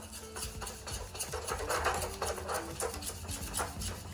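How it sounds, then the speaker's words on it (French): A sauce for a veggie croque monsieur whisked vigorously in a pan, rapid scraping and swishing strokes at a close, fairly quiet level. "you mix it really energetically"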